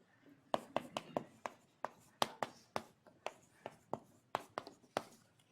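Marker or chalk taps and strokes on a lecture-hall board come in a steady run of about twenty crisp, fairly close hits and short scrapes, spaced irregularly, with no voices over them.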